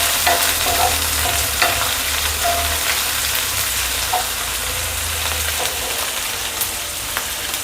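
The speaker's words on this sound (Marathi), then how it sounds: "कांदा टाकते, शिमला मिरची, चांगलं मिक्स करून घेते" Onion and capsicum are stirred and fried together in a pan, giving a bright, constant sizzle with spatula scrapes and light clinks over a low steady hum, close up with no one talking.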